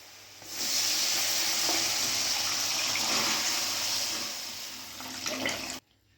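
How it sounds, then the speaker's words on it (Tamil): Water pours into a hot pan of roasted vermicelli with a loud, steady hissing rush for several seconds, then cuts off abruptly. "தண்ணி சேர்த்துக்கலாம்."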